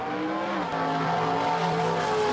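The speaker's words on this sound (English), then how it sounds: "the sounds of these muscle cars" Muscle car engines roaring loudly and steadily at close range, with a sustained throaty drone and slight pitch shifts as the cars run.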